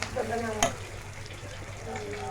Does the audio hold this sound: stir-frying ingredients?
yes